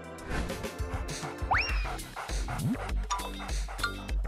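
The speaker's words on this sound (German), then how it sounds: "ich habe meinen Zellennachbarn in einen Hund verwandelt" A dog barks and yips in quick bursts, with a couple of rising whimpering squeals among busy, cluttered noise, close and fairly loud, with no clear speech.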